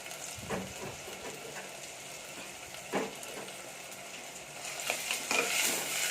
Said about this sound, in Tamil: சேர்த்து நல்லா வறுத்துக்கலாம். இதோட கருவேப்பிலையும் சேர்த்துக்கலாம்.